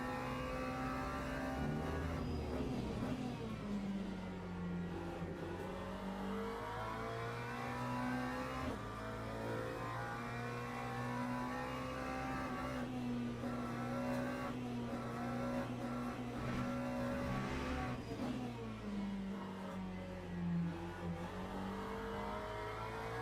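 A race car engine in the sim racing game Le Mans Ultimate revs and drones continuously, pitch rising and falling with throttle and shifts, loud and steady throughout with no talking.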